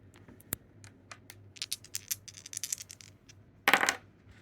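Dice rolling and clattering on a hard surface, a quick burst of small sharp clicks followed by a louder final rattle, close and without speech.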